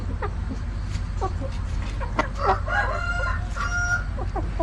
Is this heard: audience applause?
no